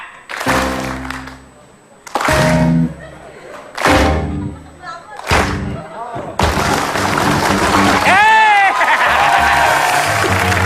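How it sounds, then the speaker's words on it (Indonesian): Studio audience in an Indonesian TV game show claps in time with a host's foot stomps, several loud separate bursts of applause with thuds, then sustained cheering and clapping near and loud. "saya pengen setiap hentakan kaki saya ada tepuk tangannya"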